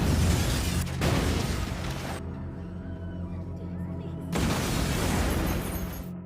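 A bomb blast at a minimarket: loud, booming bursts of noise with a quieter gap between them, the roar returning heavily and filling the whole stretch.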